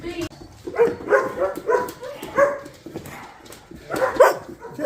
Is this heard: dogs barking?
yes